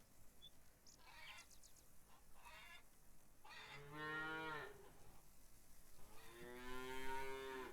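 Cows moo in a farming video game, several long low calls rising and falling with a quieter higher bleat before them, close and clear over a soft background hum.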